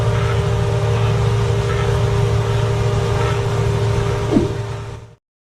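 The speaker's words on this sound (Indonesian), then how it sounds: "Mesin pemanen ini beroperasi dengan ditarik oleh traktor dan berjalan tepat di atas tanaman dengan kecepatannya sekitar 2 km per jam." A tractor-towed watermelon harvester runs over the crop rows at about 2 km/h, giving a steady, loud mechanical drone and hum with one brief knock near the end before the sound cuts out.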